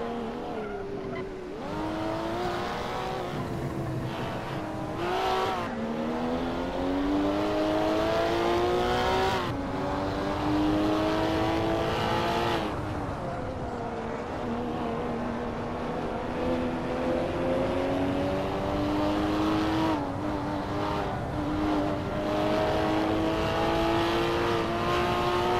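A Porsche toy car races in the Hot Wheels Universe Zero video game. Its loud engine whine climbs and drops repeatedly through gear changes and throttle lifts, continuous and close, with no voices over it.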